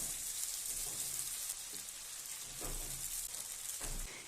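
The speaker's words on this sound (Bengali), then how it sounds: "তো এবার আমি এর মধ্যে সেদ্ধ করে রাখা চাউমিন দিচ্ছি।" Boiled chow mein noodles go into a hot pan for restaurant-style chow mein, bringing a faint, steady sizzle with a few soft low thumps and stirring scrapes, heard quietly with no talk.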